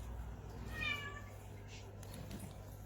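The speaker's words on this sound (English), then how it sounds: "Cat's vocal." A cat gives a single short meow partway through, faint against quiet room hum, during a marbling craft session.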